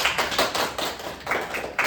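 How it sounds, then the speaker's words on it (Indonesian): Classmates clap for their peers in a classroom, a small group of hands beating in a loose, steady patter at moderate volume before the sound trails off. "Beri tepuk tangan ke teman-teman"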